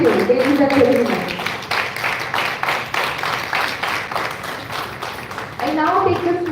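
Audience clapping at an academic ceremony after a badge presentation, a continuous round of applause with a voice speaking over it at the start and again at the end.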